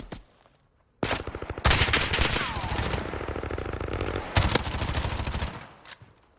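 Rapid automatic gunfire rattles through a 2v2 video game gunfight with MP5s, loud sustained bursts that start abruptly, pause briefly, then resume with dense crackling shots before tapering off.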